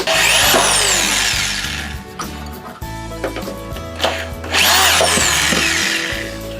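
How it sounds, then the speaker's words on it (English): A power drill bores two holes through each wooden leg of a model railroad layout frame, loud whining bursts that rise in pitch, pause between holes and start again, close and alone without talk. "I'll drill through this. Each leg gets 2 holes."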